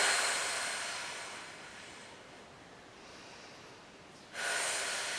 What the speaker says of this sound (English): And let's just breathe.